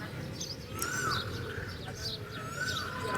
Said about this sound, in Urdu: کوئل کی آواز آ رہی ہے۔